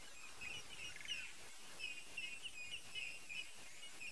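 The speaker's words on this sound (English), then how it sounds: "That noise you're hearing in the background is from grey hornbills." Grey hornbills call in the background of an early-morning African bush scene, a series of faint, thin, repeated whistling notes over soft ambient hiss.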